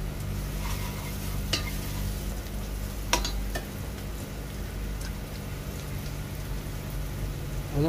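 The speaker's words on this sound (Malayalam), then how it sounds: "അപ്പോൾ ചിക്കനൊക്കെ ഇതിൽ ചേർത്ത് നല്ല എണ്ണയിലൊന്ന് ചിക്കൻ്റെ ഒരു കളറിലൊന്ന് മാറിയിട്ട് ഒരു ചുവപ്പ് കളർ പോയിട്ട് വൈറ്റ് കളറാകുന്നവരെ നമുക്കൊന്ന് വഴറ്റി വെക്കാം." Chicken sautéed in hot oil for a simple chicken curry, a soft continuous sizzle like light rain with a few sharp spoon clicks against the pan, moderately quiet and without talk.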